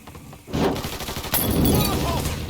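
Dense, continuous gunfire rattles through a firefight in the video game Mafia 3, a loud wash of overlapping shots and blasts that thickens partway through, with no clear gaps.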